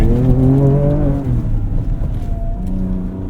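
A 2024 Ford Ranger Raptor driving off-road on KO3 tires: loud, close engine drone with rising and falling revs, steady throughout with no talking.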